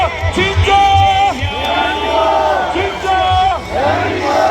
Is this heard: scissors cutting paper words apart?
no